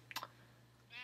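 Sheep in Minecraft let out a couple of short bleats at the start, quiet over a steady game hum, followed by a faint tonal game sound.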